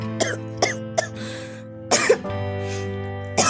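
A sick cartoon apple character coughs, several short hacking coughs in quick succession, then a couple more after a pause, close and clear over a low sustained music bed.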